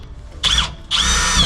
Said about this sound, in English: I'm gonna drill these non-important holes that Jace has determined